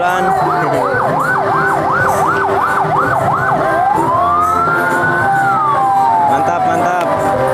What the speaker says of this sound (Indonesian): Ini ada mobil ambulan.